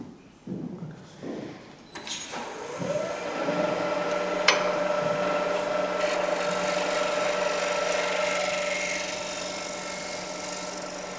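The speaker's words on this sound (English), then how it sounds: "I'm just really, really lightly touching the timber, and it produces very, very fine wood shavings." A wood turning tool rides very lightly against spinning timber on a lathe, giving a steady, sustained hiss with a faint whine after a few brief knocks at the start, loud and close with no talking.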